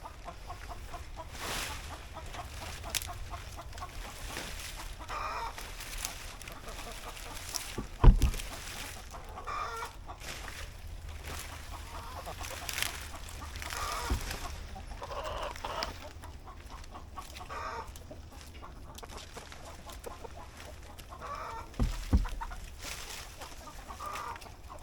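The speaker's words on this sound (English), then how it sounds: "you can see the chickens love the banana leaves." Chickens cluck and chatter close by while pecking at banana leaves, a busy overlapping run of short calls with a few louder squawks and occasional crowing from a rooster.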